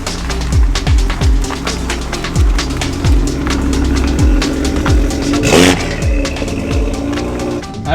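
Manual Toyota Supra MK5 engine revs while driving, a series of quick throttle blips and falling sweeps through the gears, loud and close, with a brief whooshing burst partway through.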